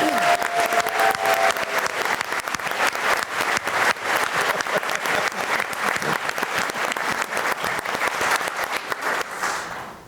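An audience at an evening women's fund forum applauds as the moderator is welcomed, a dense, steady burst of many hands clapping that holds for about ten seconds before fading at the end.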